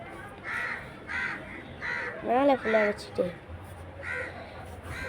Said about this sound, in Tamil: ஒரே காக்கா சவுண்டு கேட்குதுங்க.